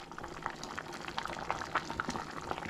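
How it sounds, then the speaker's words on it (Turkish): Erişte noodles boiling in a pot on a stove, a soft, continuous bubbling and gurgling of water with faint pops, steady and fairly quiet. "burada da erişte haşlıyorum"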